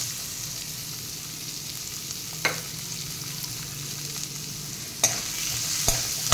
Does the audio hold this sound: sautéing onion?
yes